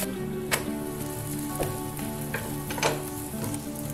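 Methi chapati, a fenugreek-leaf flatbread, frying in oil on a pan, a steady close sizzle with brief crackles and pops scattered throughout, no voices.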